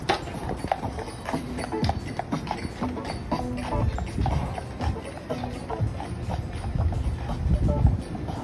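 Horse hooves clip-clopping on a downtown Atlanta street, a steady run of sharp clops close by over wind buffeting and background city noise.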